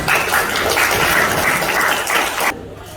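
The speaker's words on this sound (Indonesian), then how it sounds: "Tepuk tangan semuanya." Dense, steady applause from a classroom audience during a student debate session, loud and continuous for about two and a half seconds before cutting off into a quieter room.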